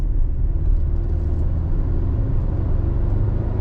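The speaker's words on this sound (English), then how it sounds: "I want to give it a little more gas from a slower speed." Toyota Tacoma pickup accelerating from a slower speed in sport mode, with a loud, steady low engine rumble and road noise throughout.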